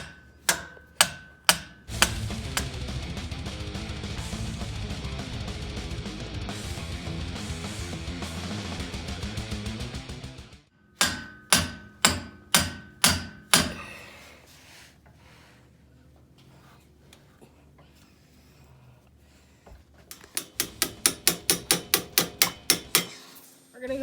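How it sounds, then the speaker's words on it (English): A sledgehammer taps a pickle fork wedged under a car's lower control arm bushing, sharp metallic strikes coming in quick bursts of several blows, with pauses and a loud grinding stretch between the bursts. "I went ahead and tried this one with the pickle fork and the sledgehammer"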